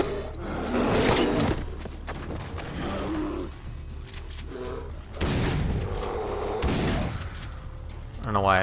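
Loud gunshots fired at a bear in Far Cry 3, two or three sharp blasts spaced a few seconds apart over a rumbling game soundscape.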